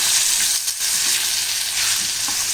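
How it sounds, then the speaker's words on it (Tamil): Onion and tomato sizzle and fry steadily in a pan for thokku, a loud continuous crackle with brief stirring shifts, close up and without talk. "இப்போ வந்து இந்த தக்காளி வெங்காயம் நல்லா வதங்கட்டும்"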